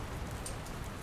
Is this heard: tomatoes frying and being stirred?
no